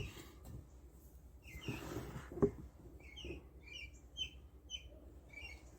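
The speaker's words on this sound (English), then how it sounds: "let you listen to the birds as I sign off" Birds chirp faintly outdoors, short high calls repeating every second or so over a low, steady background hum.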